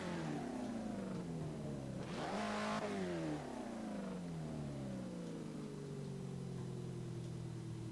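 In a video game, a race car pulls away from the Le Mans starting grid; its engine revs climb in pitch, drop at a gear change and climb again, loud and close, with no talking.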